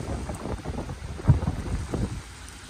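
Heavy rain falls with gusting wind during a September storm in Litoměřice, a dense, continuous low rumble and wash of water with a louder surge near the middle, no voices.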